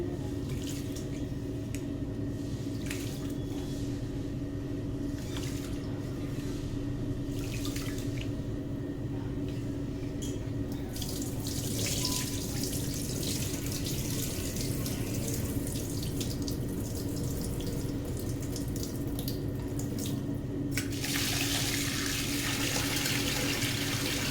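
Water runs steadily from a kitchen tap while prawns are washed for prawn biryani, a constant splashing stream into the sink with small clatters, growing brighter toward the end.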